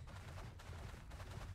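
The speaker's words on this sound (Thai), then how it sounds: "รีโหลดเร็วดียิงได้รัวดี" A rifle fires in rapid succession in the video game Palworld, making a dense, continuous rattle of shots with heavy low-end rumble that fills the whole moment, with no talking.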